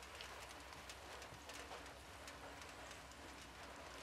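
Rain falls in the video game Sniper Elite 5, a faint, steady hiss of drops with scattered light taps, continuous and with no voices.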